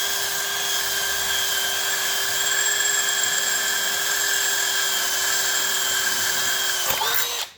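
A power drill whines steadily at high pitch as it bores through sheet metal on a 1983 square-body truck, loud and close, then winds down abruptly at the end.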